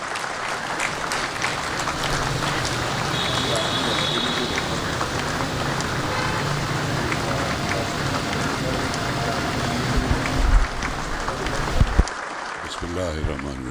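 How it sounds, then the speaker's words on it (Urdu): Sustained clapping from a seated audience at a tribute event for a veteran actor, a dense even wash of hands lasting many seconds before tapering off with a few louder knocks near the end. "اب آپ تالیاں بجا سکتے ہیں."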